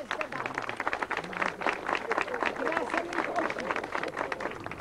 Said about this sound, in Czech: Potlesk zasloužený,